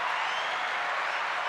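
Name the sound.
applause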